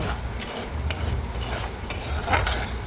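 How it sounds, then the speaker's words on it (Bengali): Prawns frying in a pan for a bottle gourd and prawn dish, giving a steady close hiss and crackle with faint stirring scrapes throughout, no voices. "চিংড়ি মাছটা ভেজে নিচ্ছি"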